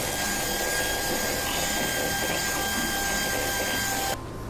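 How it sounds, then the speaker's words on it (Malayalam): Whipping cream being beaten with an electric hand mixer for a special birthday cake, a steady loud whirring motor hum running throughout that cuts off abruptly near the end. "നമുക്ക് നേരത്തെ മേടിച്ച് വെച്ചേക്കുന്ന വിപ്പിംഗ് ക്രീം ഒന്ന് വിപ്പ് ചെയ്തെടുക്കാം"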